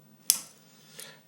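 Scissors snip tennis racquet string after a Parnell knot on a HEAD racquet: one sharp, close metallic cut, then a fainter second snip a moment later, with no voice.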